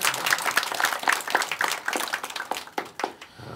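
Applause in a meeting room during a municipal staff meeting: a room of people clapping steadily and briskly at moderate loudness, fading out after about three seconds.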